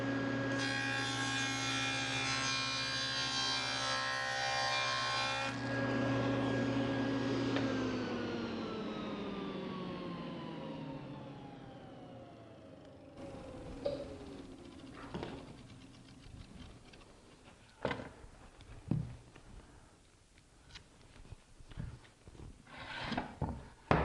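A power saw cuts wood for adjustable shelves, a loud steady whine with a falling pitch as the blade spins down, followed by quieter scattered knocks and handling sounds of the boards.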